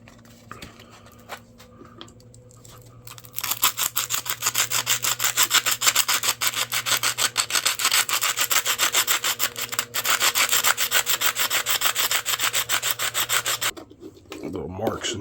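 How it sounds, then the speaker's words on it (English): Sandpaper roughs up custom Swiss Army knife scales ahead of E6000 epoxy gluing, a steady fast scratchy rasping stroke after stroke for about ten seconds, close and fairly loud, after a quieter start. "I'm going to rough all this up with some sandpaper"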